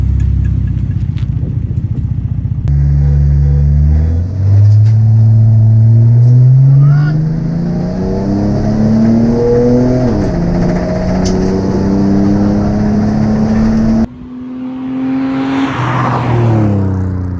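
A Mercedes race car accelerates hard against a C220 CDI, its engine note loud and close as it climbs through gear changes, then cuts to another loud revving passage.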